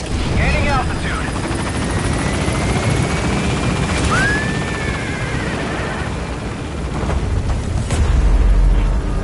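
A helicopter climbs in Metal Gear Solid V with a loud continuous rotor roar and engine rumble, and a voice speaks over it.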